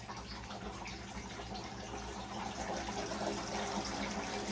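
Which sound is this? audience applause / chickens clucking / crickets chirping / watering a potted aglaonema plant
watering a potted aglaonema plant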